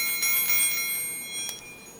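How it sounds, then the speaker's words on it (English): Small balls with tiny chimes sealed inside give off a soft, bright tinkling of sustained metallic tones, with a few light shaken accents. The sound is close and quiet, with no voices. "They have little chimes inside."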